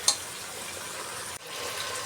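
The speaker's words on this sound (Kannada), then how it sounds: "ಚಿಕನ್ ಚೆನ್ನಾಗಿ ಎಣ್ಣೆಯಲ್ಲಿ ಫ್ರೈ ಆಗಲಿ" Chicken pieces frying in hot oil in a pot while a market-style chicken biryani is being cooked, giving a steady close broadband sizzle with a brief stir or clatter near the start and a short dip midway.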